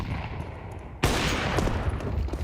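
A burst of Counter-Strike rifle gunfire cracks in abruptly and keeps rattling as dense, loud shots over a low game ambience.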